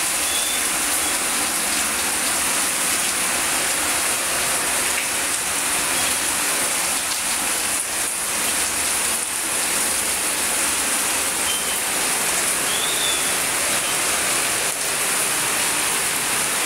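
Evening rain pours onto an outdoor balcony where potted indoor plants are set out, making a loud, steady, dense hiss with pattering drops throughout and no voices.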